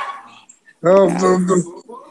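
A dog gives one loud, close yipping bark with a whiny edge, preceded by quieter faint sounds and followed by a short trailing whimper.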